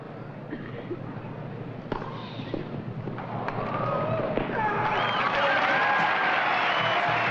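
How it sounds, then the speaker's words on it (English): A huge crowd applauds and cheers for Virginia Ruzici's match-winning victory at the 1982 U.S. Open Clay Court Championships in Indianapolis. The clapping is dense and steady and swells louder toward the end, with voices mixed in. "The huge crowd salutes her"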